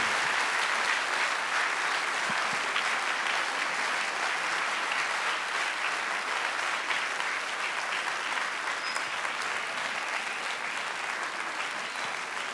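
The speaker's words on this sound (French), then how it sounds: "On applaudit encore une fois pour les 500 personnes qui sont ici" Sustained, even applause from an audience of about 500 people in a hall at the Institut Français in Brazzaville during a Kimbanguist music show, steady and dense throughout.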